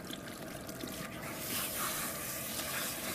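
Water spray rinsing suds off during a spa treatment, a steady broadband hiss that swells slightly partway through, continuous and close with no talking.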